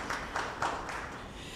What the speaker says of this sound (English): let's please give him a round of applause for that achievement